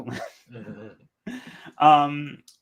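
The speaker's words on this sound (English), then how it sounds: "that dog of yours is very loud" A dog barks and yips loudly nearby in a few bursts, with whimper-like tones, mixed with voice-like sounds in the room.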